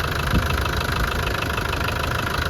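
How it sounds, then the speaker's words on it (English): A 1998 Land Rover Defender 110 300Tdi diesel engine idles steadily with a constant low rumble and faint knocking texture, close and unchanging throughout. "It idles perfectly, and there's hardly any vibration at all."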